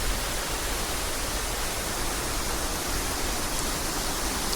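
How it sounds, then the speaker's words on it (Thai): An artificial water feature built to look natural runs through a temple garden in Thailand, producing a steady, dense, close rushing wash of flowing water that stays even and loud throughout, with no voices. "นี่ก็เป็นน้ำจำลองธรรมชาตินะครับ"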